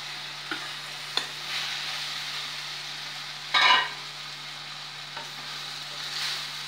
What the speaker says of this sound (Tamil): நம்ம வந்து இதில் இந்த இட்லியை போட்டு ஃப்ரை பண்ணிக்கலாம்.